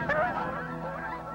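Geese, likely Canada, blue or snow geese, give a short burst of nasal honks from a flock, moderately close, then fade into a quieter background hum.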